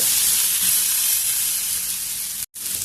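Tamarind and other ingredients fry in a little oil for a raw tamarind chutney, giving a loud, steady close-up sizzle that cuts out briefly near the end before resuming.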